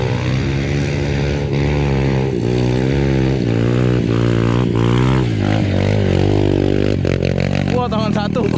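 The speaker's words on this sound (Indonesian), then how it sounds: "Motor knalpotnya bocor, Sa." A motorcycle with a leaking exhaust revs loudly and close on an off-road trail, its pitch rising and falling in steady surges, with voices talking over it.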